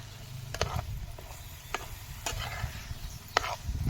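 Ingredients for a dried Bombay duck fish curry are stirred together in a pot, with scattered scraping clinks from the spoon over a soft, steady sizzle, close and fairly quiet, with no talking.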